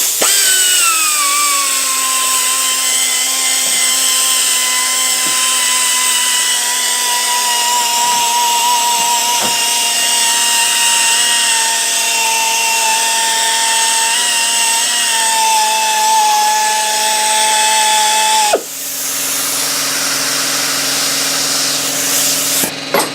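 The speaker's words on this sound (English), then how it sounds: "So we're going to switch to a buffing pad, which I believe comes in the kit as well." A power drill fitted with a buffing pad polishes a car headlight, giving a steady high motor whine with a constant rubbing hiss that runs loud and close for about twenty seconds before the pitch drops as it slows.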